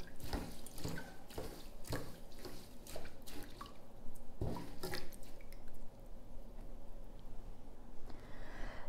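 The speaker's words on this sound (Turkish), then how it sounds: "Öncelikle tuya ağacımızı yapraklarını tozunu alıp yıkayalım arkadaşlar" Water drips and splashes as thuja tree leaves are rinsed and washed, giving an irregular close patter with small squishing sounds, heard alone without speech.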